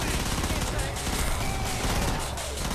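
Hand cannon gunfire in the video game Killing Floor rattles as dense, continuous shooting layered with game noise, loud and close throughout.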